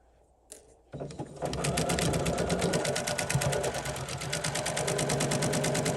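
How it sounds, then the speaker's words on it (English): Sewing machine stitching around the layered lining of a bucket hat, starting after a few soft clicks and then running steadily and fast with a rapid, even needle rhythm, close and alone. "So we're just gonna stitch around here."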